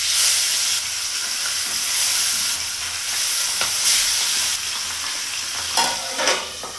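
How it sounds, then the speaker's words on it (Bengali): Pabda fish fry in hot mustard oil with a loud, steady close-up sizzle, and sharper crackles and pops break through toward the end. "তো চলো এবার এক এক করে মাছগুলো ভেজে নিই।"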